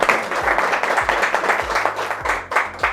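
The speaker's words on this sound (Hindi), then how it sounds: "तो एक बार राजेश सर, प्रशांत सर और कुद्दू सर के लिए ताली।" A small group applauding, brisk overlapping claps forming a loud, continuous patter that swells and eases slightly.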